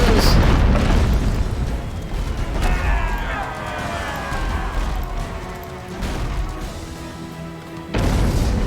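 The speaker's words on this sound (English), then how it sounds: "Shoot the mortar!" A mortar fires and explodes in the naval game Abandon Ship: loud, heavy booms with rumbling blasts and crashing debris, and a second strong hit near the end, mixed with game noise and some talk.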